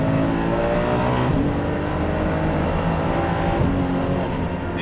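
A Nissan Skyline GT-R turbo engine revs hard past 5,000 RPM, a loud close rising drone with one sharp gear change partway through before it climbs again, heard from inside the car.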